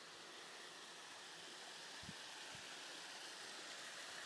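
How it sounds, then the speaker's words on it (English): Steady running water in a Victorian park in the snow, a faint, even rush that stays constant throughout, with a couple of brief low thumps midway. "Let's enjoy the sound of running water for a second."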